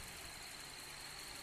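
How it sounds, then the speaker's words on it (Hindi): An engine idles unevenly with a misfire after one fuel injector is disabled during a power balance test, a steady droning rumble with a faint high whine, heard alone. "इंजन का मिसिंग बढ़ गया है, फिर से मैं इनेबल कर दूंगा।"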